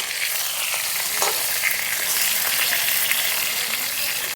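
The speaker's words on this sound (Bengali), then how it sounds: "বেগুনটা ভাজা হোক" Brinjal pieces frying in a pan, a loud, steady, dense sizzle with faint scraping of stirring, no voices.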